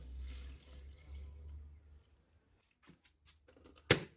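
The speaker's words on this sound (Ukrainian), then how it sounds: "заливаю водою до рівня" Water pours steadily for about two seconds into a container of crushed bee feed at an apiary, followed by a few soft clunks and one sharp knock.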